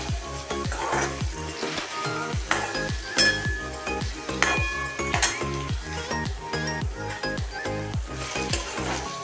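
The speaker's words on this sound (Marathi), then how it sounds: "काजू छान फ्राय झाले आहेत।" Cashews frying in a pan for a cashew curry masala, with a sizzling bed under repeated rhythmic stirring strokes and light metallic clinks, close and busy throughout without speech.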